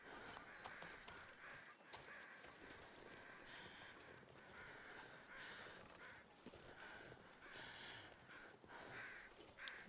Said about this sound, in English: There's some crows.